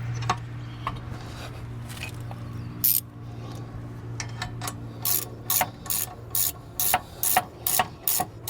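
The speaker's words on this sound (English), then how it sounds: "we're gonna go ahead and start putting in the caliper bolts in there" A hand ratchet tightens the rear brake caliper bolts on a Hyundai Palisade, first with scattered clicks, then a steady run of sharp, close clicking strokes over a low steady hum.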